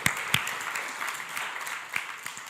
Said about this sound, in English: So I think you should all applaud them all here.